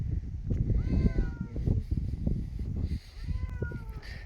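An unneutered, friendly cat meows several times in drawn-out, wavering calls over a steady low rumbling background, fairly close.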